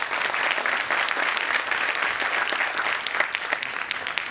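Steady audience applause at a Saksham Careers guidance event, dense and even throughout with no voices over it.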